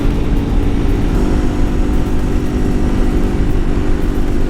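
A Yamaha TW200 motorcycle rides along back roads, its engine giving a loud, steady, close drone with road and wind rumble and no voices.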